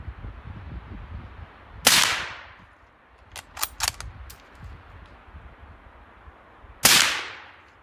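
Two suppressed shots from a Ruger GSR .308 rifle fitted with a suppressor ring out several seconds apart, each a sharp loud crack with a short decaying tail, with quieter metallic clicks and handling noises between them.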